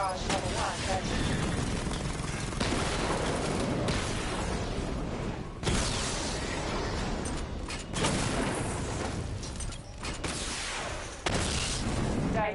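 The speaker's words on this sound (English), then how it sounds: "activate missile barrage. Missile barrage level 1 ready." Missile barrage firing in Batman: Arkham Knight, a string of loud booming blasts and mechanical whooshes in rapid bursts with short pauses between them, along with some game speech.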